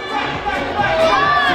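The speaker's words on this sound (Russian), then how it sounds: "аплодисменты парням, друзья!" At an education group's 20-year anniversary celebration, a crowd cheers and shouts with a swell of lively voices, loud and close, building briefly.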